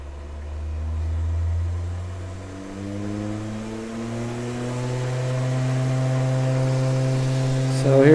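Small DC motor powered by a Newman motor's output, a steady electric whine that rises gradually in pitch as it speeds up over several seconds, close and continuous with no talk.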